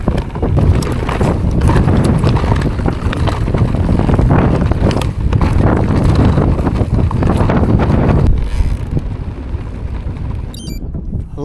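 Strong wind buffets the microphone on a mountain pass in the Berwyn Mountains, a loud continuous roar and rumble gusting throughout, easing sharply near the end.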